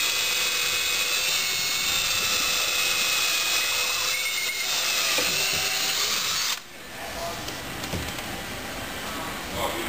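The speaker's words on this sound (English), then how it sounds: "we're drilling pilot holes for the screws to secure the angle bracket to the wall" A power drill whines steadily at close range, drilling pilot holes into a wall for angle bracket screws, running continuously before cutting out abruptly near the end, leaving quieter background noise.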